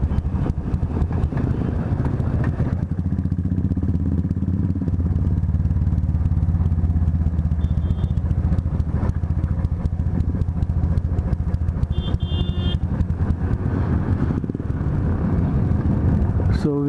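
A motorcycle on a Republic Day ride from Lonavala to Mumbai coasts downhill in third gear without acceleration, its steady engine drone and road rumble continuous throughout, with occasional clatter.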